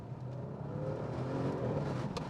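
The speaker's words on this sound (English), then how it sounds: "put it in dynamic mode so I can hear those pops that MRC" A tuned Audi RS6 C7 V8 accelerates in dynamic mode, giving a steady, full engine roar that grows slightly louder, with a faint crackle near the end. No one speaks over it.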